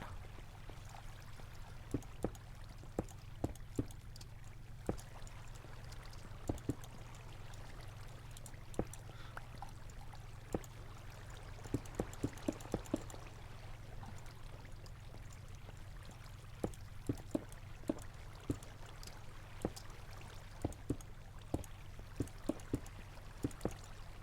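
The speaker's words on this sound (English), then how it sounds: "I just didn't want flowing water here" Flowing water in Minecraft, a steady low trickling and pouring stream running on without pause, with faint scattered clicks over it.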